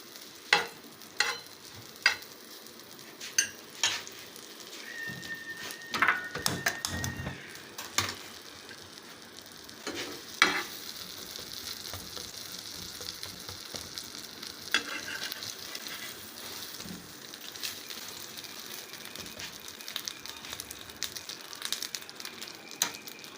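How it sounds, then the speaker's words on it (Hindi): Egg and cheese bread, folded, sizzles gently in butter in a pan, a soft continuous crackle with occasional scrapes and taps of a utensil, close and fairly quiet with no voices. "थोड़ा सा फिर बटर डालेंगे, इसको हल्का सा फिर हम फ्राई कर देंगे।"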